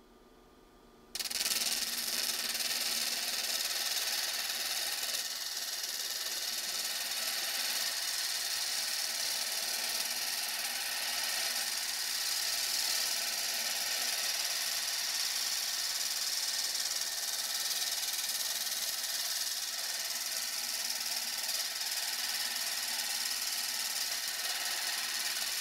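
A stone cabochon held on a dopping stick is ground against a coarse 80 grit lapidary wheel, giving a loud, steady, hissing grind that starts abruptly and holds at an even level for the whole stretch.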